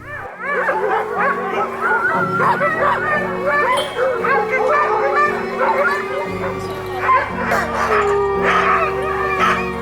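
Many sled dogs bark, yip and whine excitedly all at once in Finland, a loud, continuous chorus with people talking underneath.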